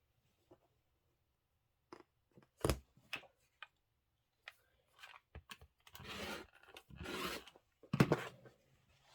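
Quilting fabric being cut for a table topper, with scattered short snips and rustling handling sounds, quiet and close, building into denser bursts of cutting near the end, with no talk.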